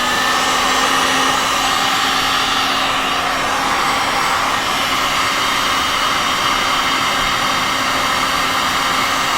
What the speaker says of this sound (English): I'm holding this heat gun kind of far away from where I'm trying to dry this area